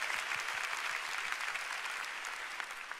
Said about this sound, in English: let's give the Lord a big hand